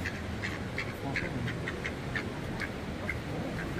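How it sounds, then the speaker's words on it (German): Ducks quack repeatedly in short nasal calls at a campsite by a lake, moderately close over a steady outdoor background hiss. "Hier kommen Enten. Die wollen was zu fressen haben."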